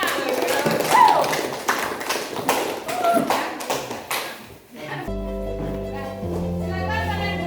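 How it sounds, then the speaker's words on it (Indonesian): A small group of students claps irregularly in a classroom during an Islamic creed and ethics lesson, brisk and close for about four seconds before recorded music takes over. "Tepuk tangannya buat Siva."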